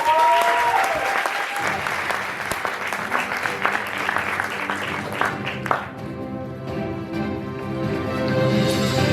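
Applause from the audience at a shortform improv comedy show, a full burst of clapping that thins out partway through as music and other stage sound take over.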